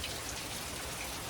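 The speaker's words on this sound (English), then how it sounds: "we are enjoying this rain" Steady rain falls in Texas in December, making a soft, continuous hiss of drops that stays faint and even throughout with no voices.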